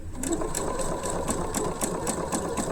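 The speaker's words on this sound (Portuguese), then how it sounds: "Aí já começo aí a fazer a minha costura novamente. Só ajeitar o pedal aqui no meu colo." Sewing machine running steadily while stitching a French seam on a dress, a close, continuous mechanical whir with a fast, regular clicking rhythm from the needle, alone without talk.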